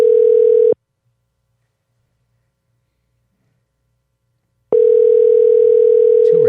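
A telephone ringback tone on a call being placed sounds twice, each a steady electronic buzz, with a long silent gap between the two rings, clear and close on the line.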